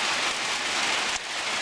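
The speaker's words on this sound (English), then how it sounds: "It's hailing, so it's getting noisy" Hail falling outdoors, a dense, steady hiss of pellets striking surfaces that holds evenly throughout with a brief dip near the end, no voices.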